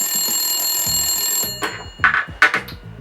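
A telephone rings in a room with a sustained electronic tone for about a second and a half, and then a few short, bright bursts follow in quick succession. The ringing is close and fairly loud, and no one speaks over it.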